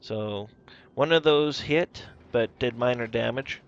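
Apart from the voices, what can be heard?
No everyday noise stands out behind the speech.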